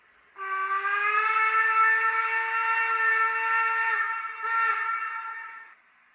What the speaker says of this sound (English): I like these whistles with the echo.